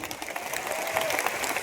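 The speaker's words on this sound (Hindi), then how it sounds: "एक बार जोरदार ताली" Audience applause breaks out at a motivational business presentation, a dense, steady wash of clapping hands that holds at an even level throughout without any voices.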